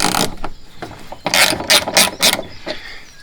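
A ratchet driver fitted with a star bit loosens bolts holding a plate on a Polaris diesel utility vehicle, with a close series of sharp metallic clicking bursts, a few isolated then a quick cluster.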